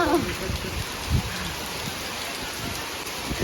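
Heavy rain pours steadily, a dense continuous roar with a faint voice at the very start.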